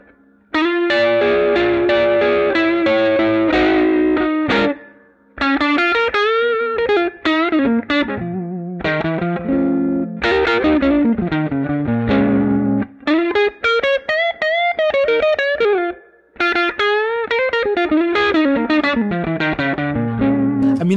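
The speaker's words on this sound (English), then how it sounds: "It's just the Silver 12, which is kind of like a Silvertone amp, the cab, which is placed in a garage for that room sound." Blues electric guitar through an Amplitube 5 Silver 12 amp modeled on a Silvertone, cab placed in a garage for room sound: loud, slightly overdriven lead licks with bends and runs, played alone without pedals.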